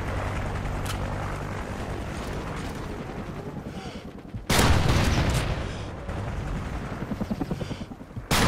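A friendly helicopter arrives amid gunfire in the video game Call of Duty Ghosts: a steady rotor and engine roar with crackling shots, swelling into a loud broadband burst midway and staying heavy to the end.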